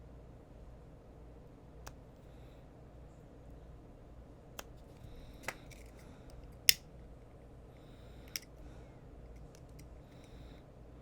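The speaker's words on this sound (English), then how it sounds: "Now we will cut this and then melt the ends." Scissors snipping macrame cord, a handful of sharp, isolated cuts spaced a second or two apart over a quiet room background.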